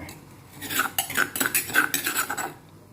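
Pounded chili paste being stirred into a catfish steaming mixture for a Thai dish, giving close, busy clinks and scrapes of a utensil against the pot in quick irregular strokes, with no talking.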